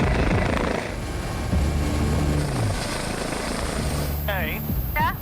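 An air ambulance helicopter heading to a countryside car crash rescue, its rotor and engine drone steady and fairly close throughout, with people talking over it and brief squeaky chirps near the end.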